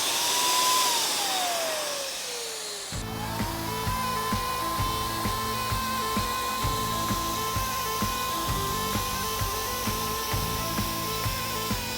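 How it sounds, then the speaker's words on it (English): Paint sprayer motor droning steadily after a switch-on around three seconds, with a sustained whine and rhythmic pulsing clatter, loud and close, no talking. "Let's load this into the sprayer"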